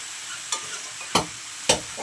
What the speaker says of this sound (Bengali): লাউটাকে এখন একটু ভালো করে কষিয়ে নেব